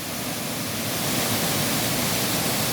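The Victoria waterfall (Cascada La Victoria) runs at its highest level, a loud, steady, broadband rush of falling water with no break.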